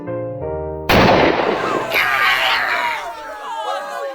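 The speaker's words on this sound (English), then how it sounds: "The gunshot split the air clean in half, and then silence, thick, sharp, waiting." In a dramatized scene, a single loud revolver shot cracks sharply after a soft tonal intro and then rings out in a long, fading echo.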